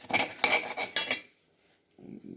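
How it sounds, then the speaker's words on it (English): Utensil scraping and clinking in a pan while a Cornish game hen dish is stirred, a few quick rhythmic strokes, then a pause and softer scraping. "Now, stir it up again"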